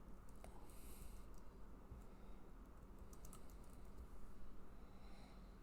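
Quick typing on a computer keyboard while searching for an app, a steady patter of soft key clicks that carries on throughout, close up, with no one talking.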